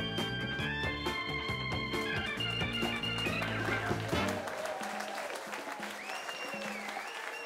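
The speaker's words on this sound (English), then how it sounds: "Big round of applause to yourselves." Studio audience applause at the opening of a live New Zealand political panel show, heard under a loud theme-music sting that fades out, with the clapping carrying on faintly afterward.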